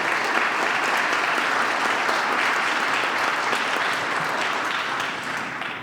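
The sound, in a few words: audience applause for speakers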